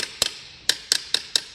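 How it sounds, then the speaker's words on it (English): Hammer blows on aluminum sheet while straightening a crease on a tail pad armor plate: six sharp, ringing metallic strikes at uneven intervals, loud and close with no talk. "But nothing you can't hammer back straight."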